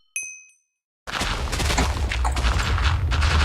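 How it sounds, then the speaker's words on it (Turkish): A TNT explosion in the video game Minecraft: after a short metallic ding and a second of silence, a loud, sustained roaring blast of rumbling debris fills the rest of the moment, with no talk. "Şurayı patlat kanka."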